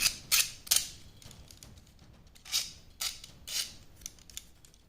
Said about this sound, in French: je prends un cutter et je vais gratter ça